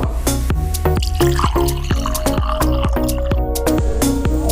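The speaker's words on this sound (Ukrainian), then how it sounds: "Додаємо вершкове масло молоко" Butter and milk go into blended pumpkin in a pot for pumpkin purée soup, making a quick run of wet drips, plops and squishy splashes, close and clear with no talking.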